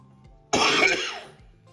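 A single harsh cough bursts out close by, lasting about half a second, with quiet room tone before and after.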